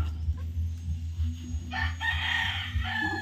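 Chickens in a coop cluck, and a rooster crows loudly partway through above a steady low hum.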